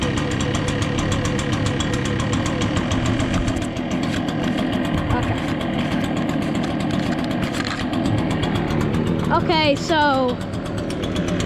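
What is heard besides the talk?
Echo backpack leaf blower engine starting and running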